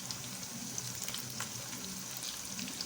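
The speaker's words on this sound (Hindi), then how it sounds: "मैंने इसमें चिप्स ऐड कर दिया, अब ये फ्राई हो रही है" Potato chips fry in hot oil, a dense, even crackle and sizzle with scattered sharp pops, close and moderately quiet, with no talking.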